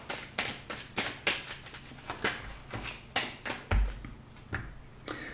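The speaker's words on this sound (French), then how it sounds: "Je vais juste prendre cette carte." Cards are handled and drawn from a deck of tarot-style message cards: a steady series of crisp, close slaps and flicks, roughly two or three a second, with soft rustling between.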